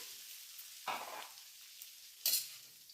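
Onion, mint and coriander frying in ghee in a kadai, a low continuous sizzle with two distinct spatula scrapes against the pan, quiet and close, no talking.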